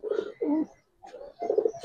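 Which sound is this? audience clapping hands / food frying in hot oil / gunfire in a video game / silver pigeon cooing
silver pigeon cooing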